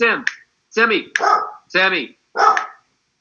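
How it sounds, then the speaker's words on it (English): A dog barks four times in a row with short pauses between, sharp and fairly close, with no talk during the barks. "my dog's, I don't know what he's barking at"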